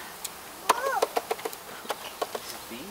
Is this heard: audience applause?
no